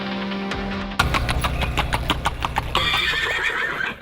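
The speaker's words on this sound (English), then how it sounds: "There's something about saddling up your horse and heading into the mountains." Horses on a mountain trail ride whinny and neigh loudly while hooves clip-clop in a steady rhythm close by, with no talking.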